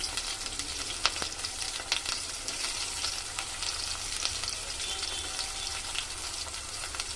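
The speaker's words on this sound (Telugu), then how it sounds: "ఉల్లిగడ్డలు వేసుకుంటున్నా" Onions frying in hot oil for liver curry, a dense, even crackling sizzle close by, with a few faint spoon taps and no talking.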